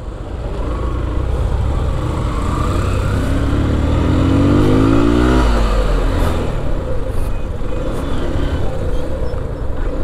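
A motorcycle engine droning loudly on a road, an idle rising into a revving acceleration midway before settling again, with steady traffic noise around it and no speech.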